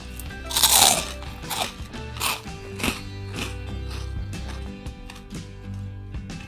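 Crisp bites and chewing of a freshly fried purple eggplant fritter, several loud close crunches early followed by steadier crackling chews.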